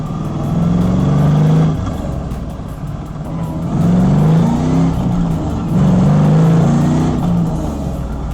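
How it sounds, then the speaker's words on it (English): Steady low exhaust drone of an LS-swapped Mazda RX-8 cruising at highway speed, with a deep resonant hum that swells and eases in waves. "I think my exhaust is hitting like a resonant frequency where it's like vibrating really bad"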